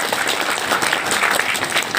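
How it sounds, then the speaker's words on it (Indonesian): An audience applauding at a large stadium event, a dense, even wash of clapping close by throughout. "Kita tepuk tangan untuk Bapak Ibu semua."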